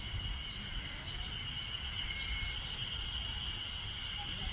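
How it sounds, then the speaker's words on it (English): Cicadas drone steadily in hot weather at a highway rest area, a continuous high-pitched buzzing chorus with a low rumble of traffic underneath. "Lots and lots of semi-cicadas because it's hot."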